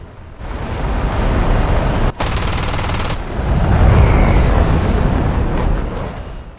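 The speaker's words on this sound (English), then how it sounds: "tried to hit his MiG on the first pass with guns, sparking a tight dogfight" Sustained, loud gunfire from an F-8 Crusader's cannons during a close dogfight with a MiG, a dense continuous roar of rapid fire with a brief gap near the middle and a heavier burst toward the end.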